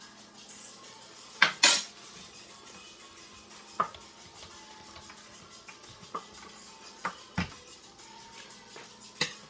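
Fry bake dough frying in a pan, a soft steady sizzle broken by sharp metal clinks and scrapes of a utensil as the dough is turned.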